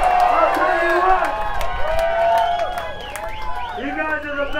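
A live concert crowd at The Casbah in San Diego cheers, whoops and claps at a show, a busy roar of many voices with shrill yells rising above it.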